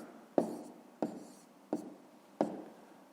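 Pen or pencil writing numbers by hand on paper in a math exercise: four short, distinct scratchy strokes spaced roughly evenly, close and fairly quiet, with no one talking.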